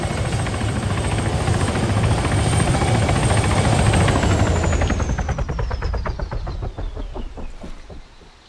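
A helicopter in a video game thumps its rotor loudly and steadily, then recedes, its chopping beat growing more distinct and its whine dropping in pitch as it fades away.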